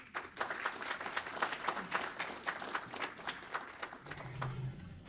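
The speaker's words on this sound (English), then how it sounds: "if we can give Brynn a round of applause" An audience at an HVAC/R business boot camp claps, a scattered patter of individual claps from a modest crowd, fairly faint and steady for several seconds, with a brief murmur of voices near the end.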